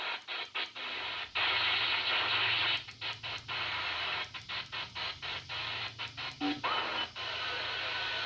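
CB radio reception on channel 6 through a Sirio SY27-4 beam antenna aimed toward Australia: a steady hiss of static broken by bursts of distant, garbled voices and clicks, moderately loud.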